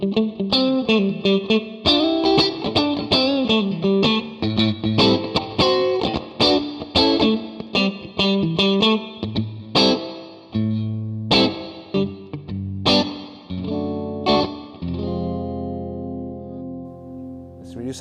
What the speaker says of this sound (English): So this is the spring reverb.